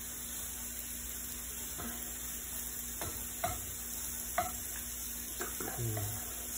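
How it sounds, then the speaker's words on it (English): Fish pieces searing in a pan for Basel fish soup: a steady low sizzle with occasional clinks and scrapes as the pieces are turned one by one. "Sear them both sides."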